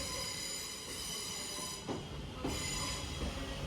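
Northern class 323 electric multiple unit arriving at Manchester Piccadilly, a steady rumbling rail roar with faint wheel squeal and a couple of soft clunks, heard at a distance without speech.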